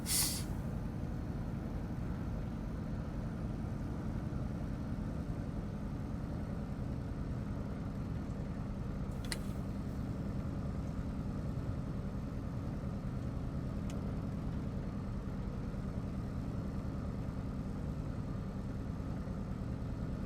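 A simulated Cessna 195 Businessliner radial engine idles in a steady, low, even drone for about twenty seconds, with a couple of brief clicks partway through and no talking.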